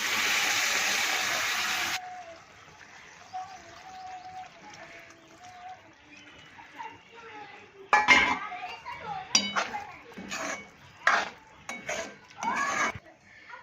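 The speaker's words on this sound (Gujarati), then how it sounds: "ચાલો હવે ગવાર નાખી દઉં." Cluster beans go into a pan of roasted spices for a yogurt gavar and potato curry, followed by a run of sharp metallic clinks and scrapes of a spoon stirring against the pan, with a faint sizzle beneath.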